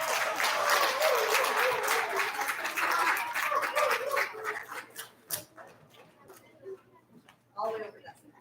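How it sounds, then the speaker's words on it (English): Round of applause at an elementary school student recognition ceremony for third grade award recipients, a crowd clapping strongly for about five seconds before thinning to scattered claps, with voices and a short yelp heard as it fades. "Can we have a round of applause for our third grade award recipients?"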